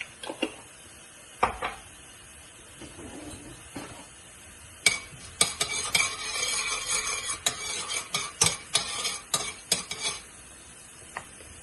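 Urad dal, chana dal and cumin fry in hot oil, a close sizzle and crackle joined by frequent metallic clinks and scrapes of a spoon stirring against the pan, growing busier midway.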